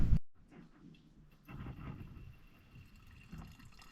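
Old fuel drains out of a carburetor tank into a container, a faint, steady trickle of liquid just after a brief clunk, close by with no voices.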